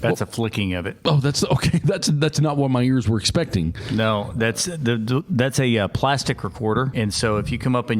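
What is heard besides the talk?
No everyday noises stand out.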